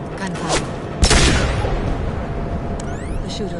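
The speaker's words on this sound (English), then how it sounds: "Gunfire." Gunfire in the Mass Effect 2 video game: a few sharp broadband shots crack out, the loudest burst near the middle, over a steady ambient rumble, with game voices around it.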